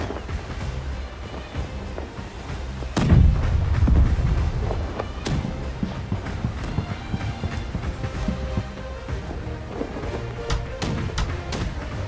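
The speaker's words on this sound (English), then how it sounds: "Oh, cannon!" A cannon fires in the Blackwake naval combat game, with a single deep boom partway through, set among ongoing thumping and clattering game sounds.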